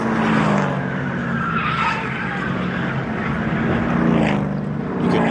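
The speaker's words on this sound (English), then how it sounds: "You could hear that car hitting the inside wall." A NASCAR race car slams into the inside wall after spinning in a violent wreck, a loud sustained roar of engines and scraping with skidding tones throughout.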